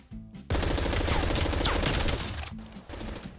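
A fast-firing machine gun in Call of Duty Cold War rips off a loud, close, continuous burst for about two seconds, with quieter game sounds before and after.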